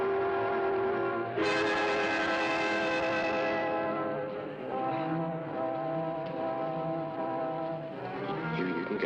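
Train in motion in a 1953 film, heard as sustained tonal horn-like blasts and metallic rail drone with a prominent pitch shift early on, continuous and fairly loud.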